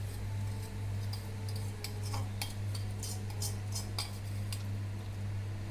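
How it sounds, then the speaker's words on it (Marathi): A spoon stirs a creamy chips mixture in a bowl, giving a string of small metallic clinks and taps over a steady low electrical hum, close and fairly quiet, with no talking. "आता सगळं आपण हे मिक्स करून घेऊ"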